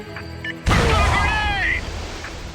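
A grenade blast in the SOCOM 3: US Navy SEALs shooter game: one sudden loud, broad burst that rings and rumbles for about two seconds, with a voice shouting over it.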